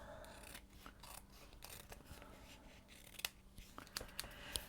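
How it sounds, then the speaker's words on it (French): Scissors cutting through paper card for a pop-up card or envelope, a series of close, crisp snips and rustling paper, alone with no talk. "Je vais donc couper, hop, jusqu'au point de repère."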